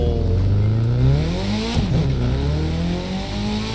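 A Mitsubishi Lancer Evolution X engine in The Crew 2 racing video game revs up and down continuously, loud and close, with rising and falling pitch.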